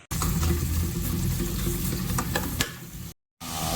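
Chopped onion fries in hot oil while being stirred, giving a dense close sizzle with scraping utensil sounds, cut off by a brief silence just before the end.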